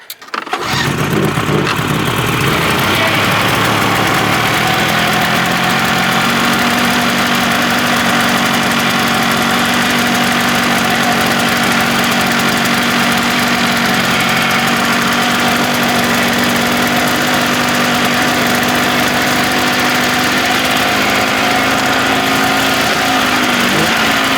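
A $250 snowmobile engine starts and runs at a steady, loud idle for over twenty seconds, close by with a constant droning hum and no talk.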